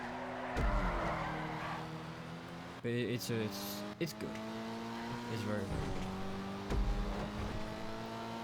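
A Dinka Jester RR sports car driven in GTA, engine revving and shifting with rising and falling tones and brief tire noise, under someone talking.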